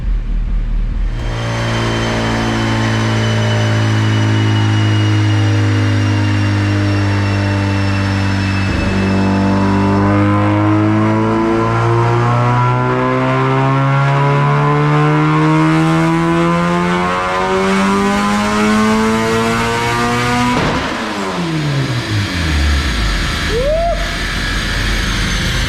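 A turbocharged Honda D16 in a hatchback roars through a long fourth-gear dyno pull at 16 pounds of boost, its harmonics climbing loudly and continuously, then lifting off with a sharp drop and a brief whistle near the end.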